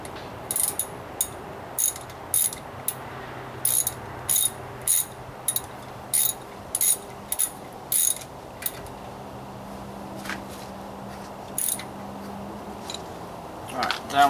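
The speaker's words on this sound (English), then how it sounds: "That one's tight, the top one not so easy to get to with the ratchet." A ratchet tightens bolts on the rear disc brakes of a Dodge Ram pickup, close and loud, in repeated quick bursts of clicking separated by short pauses.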